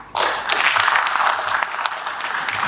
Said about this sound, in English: another round of applause for our panelists and our moderator